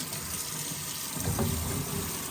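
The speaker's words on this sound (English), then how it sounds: "I like to run the water kind of hot" Hot water runs steadily from a hose or tap while a Traeger smoker grill is being cleaned. The rush is constant and broadband, and near the middle it thickens into a heavier splashing as the spray hits the grill surfaces.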